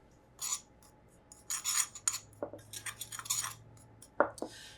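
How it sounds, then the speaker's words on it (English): Spices of coriander, cumin, sumac and lemon zest stirred in a bowl, giving a few short bursts of scraping and light clinks of a spoon against the bowl, quiet and close with pauses between. "Give that a stir."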